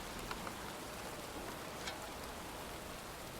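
Steady pouring rain in a cemetery in the Heavy Rain video game, a dense, even hiss of falling water with faint scattered drop taps throughout, fairly quiet and with no voices.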